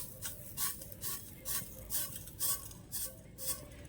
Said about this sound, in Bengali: এইবার নেড়ে চেড়ে চিনিটা গলিয়ে নেবো